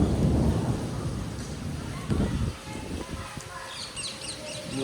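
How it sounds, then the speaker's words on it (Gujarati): A long low rumble of thunder rolls and fades, with rain hiss in the background and a few faint bird chirps near the end. "હવે કાટકા થાય છે કાટકા"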